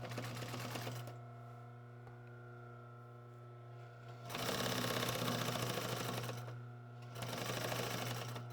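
Sewing machine stitching a wing chair slipcover, running in two separate bursts of rapid steady clatter with a low motor hum between, close and clear with no talk.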